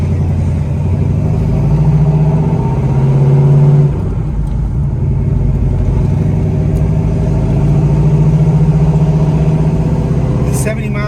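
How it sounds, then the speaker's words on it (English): 1976 Pontiac Trans Am with a 455 big block V8 and a 4-speed manual rumbles loudly nearby. A deep idle swells into blips of revving, dips, then builds again. "76 455 big block Pontiac Trans Am with a 4-speed manual transmission"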